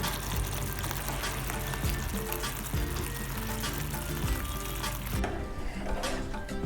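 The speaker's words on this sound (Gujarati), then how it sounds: "હવે આપણે ટામેટાની ગ્રેવી નાખીશું। આ કાચા ટામેટાની ગ્રેવી છે, એને બાફી નથી। હવે આને થવા દઈશું।" Raw tomato gravy frying with onions in a pan for rajma masala, a loud, dense, crackling sizzle that runs unbroken throughout with occasional stirring scrapes underneath.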